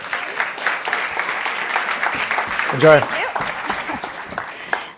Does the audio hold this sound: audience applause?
yes